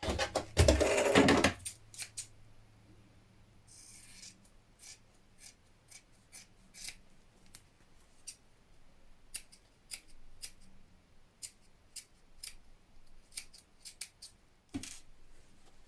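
Scissors trim around a sewn fabric curve on a kaftan dress seam, a run of sharp, distinct snips spaced irregularly after a louder handling rustle at the start, close and otherwise quiet.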